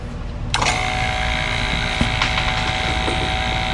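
A small electric vacuum pump switches on abruptly and runs with a steady, close mechanical hum and whine while degassing epoxy resin in a sealed container.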